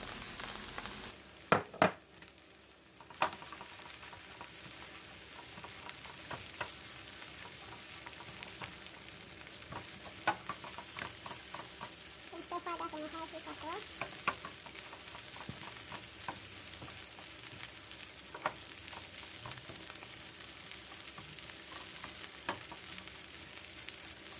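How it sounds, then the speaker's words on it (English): Rice stir-frying in a pan for egg fried rice, a steady low sizzle with repeated spatula scrapes and taps throughout, fairly faint and close, no talk. "we're going to just go ahead and add in our rice"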